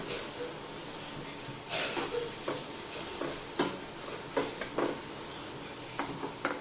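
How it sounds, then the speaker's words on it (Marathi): Onion goes into a pan where garlic and oregano roast over low heat, giving a soft ongoing sizzle broken by scraping stirs; a voice talks faintly in the background. "लसूण ऑरॅगोनाचा छान स्मेल येईपर्यंत मंद गॅसवरती आपण ते भाजून घ्यायचं आहे ॲड करूया कांदा"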